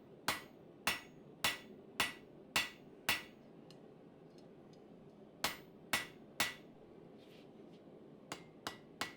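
A hammer strikes spring steel on an anvil while forging it flat. The blows are sharp, ringing and evenly spaced, coming in two quick runs split by a short pause, and end with a few lighter taps.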